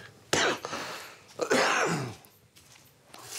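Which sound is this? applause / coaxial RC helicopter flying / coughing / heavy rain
coughing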